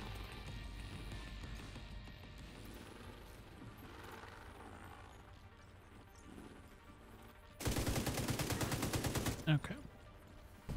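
Gunfire in the video game The Division 2, shooting at tanks in a room: a dense rapid burst of loud shots erupts after a quieter stretch of background game sound, followed by a sharp impact.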